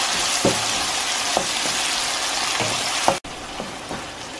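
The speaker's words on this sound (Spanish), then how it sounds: "Dejamos aquí que fría un poco." Tomato and onion fry in a pan with a steady, loud sizzle, broken by a few soft knocks of stirring and a brief dip near the end.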